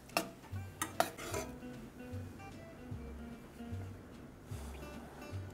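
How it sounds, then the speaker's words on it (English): A spoon stirs raspberry coulis in a pot to dissolve the sugar, with a few sharp clinks against the metal at the start, then soft, quiet scraping strokes at a loose, recurring rhythm. "You just stir it to get the sugar and salt dissolved."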